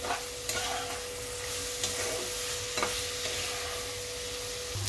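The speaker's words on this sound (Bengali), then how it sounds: "এবার আমি মশলাটা ভালো করে কষিয়ে নিচ্ছি।" Spice paste of chilli powder and a little sugar stir-fried in a pan, a close, steady sizzle with periodic scraping strokes of a spatula at a slow rhythm.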